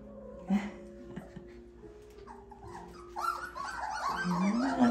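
Doodle puppies growl and whimper nearby, soft at first with scattered little whines, then building into louder overlapping growls and yelps toward the end.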